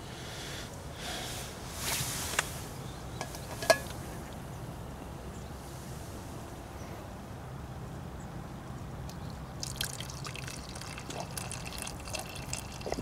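Water poured in a steady stream over gritty grounds, a faint continuous trickle and splash with a few brief clinks, fairly quiet and distant.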